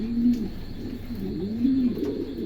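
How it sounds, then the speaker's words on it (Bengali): Pigeons kept for sale at a bird market coo in a steady, low, rolling murmur, close and continuous under faint background noise. "বেবি সহ রানিং কবুতর বিক্রি"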